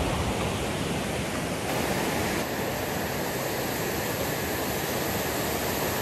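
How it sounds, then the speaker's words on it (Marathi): Small rocky river flowing beneath a bridge in monsoon season, a steady dense rush of water without pause, fairly close and even in loudness, no voices. "पाठीमागे कशा पद्धतीने पाण्याचा प्रवाह आहे"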